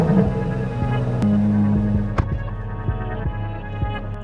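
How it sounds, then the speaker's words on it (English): A Corvette C8 Z06 with a flat-plane crank V8 runs close by at a steady idle, a loud, even, low hum with a throbbing pulse and a few brief sharper clicks. "So this is the C8 Z06."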